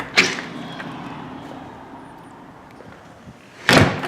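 A newly installed deadbolt-equipped door being worked, with a sharp close bang near the start, a quieter stretch of handling, and a second louder slam or latch thud near the end.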